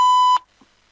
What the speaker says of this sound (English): my phone went off